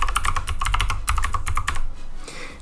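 Rapid keystrokes on a computer keyboard as a Windows command is entered, a close, steady run of clicky taps for about two seconds, then a brief pause and a final faint key press.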